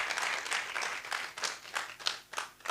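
Audience applause at an EdTech event, a crowd clapping steadily for a few seconds at moderate distance.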